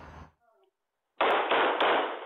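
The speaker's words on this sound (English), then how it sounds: "Those gunshots are what workers at Smile Direct Club's manufacturing facility heard in Antioch." Gunshots recorded at a manufacturing facility during a workplace shooting in Antioch, three sharp, loud bangs in quick succession after a brief voice and a short pause, each with a harsh noisy decay.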